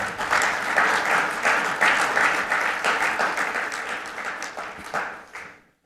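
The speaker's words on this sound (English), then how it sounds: "So let's give the state wireless associations represented here a round of applause as we close up." An audience at a wireless industry summit breaks into sustained applause that holds strong for several seconds, then thins and fades out near the end.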